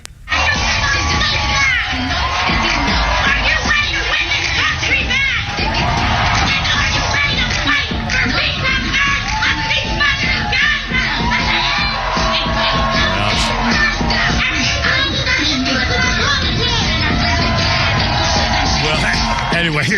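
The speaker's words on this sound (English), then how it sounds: "Just screaming and shrieking" A political rally crowd screaming and shrieking continuously and loudly, a dense wall of yells and whoops that never lets up, with a voice barely audible underneath.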